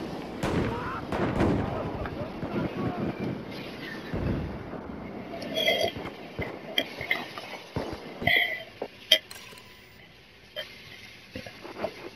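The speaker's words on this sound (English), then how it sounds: "there's a grenade, jump back" A grenade goes off in Battlefield 4 as a dull, rumbling blast amid scattered gunfire and smaller impacts, followed by sharper pops and clicks, with a voice talking over the action.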